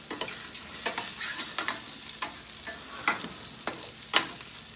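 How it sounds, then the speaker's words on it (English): Raw rice frying in hot oil with spices in a pan, stirred so that scraping clicks and sizzling bursts recur irregularly over a steady background sizzle, up close with no talking. "We're gonna let it soak up all that oil and fry around in here a little bit"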